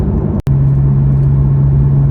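A 2018 Porsche 911 GTS 991.2 engine drones loudly from inside the car while driving, a steady low hum with a brief dropout early on.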